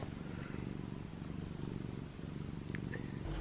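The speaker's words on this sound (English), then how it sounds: "Listen to that purr." A cat purrs steadily and close up, a soft, continuous rumbling that stays even throughout.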